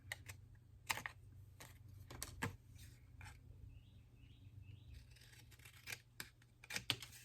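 Scissors snipping through fabric while cutting out a craft pocket, heard as faint, close, irregular sharp snips and clicks spaced across a quiet background with a low steady hum.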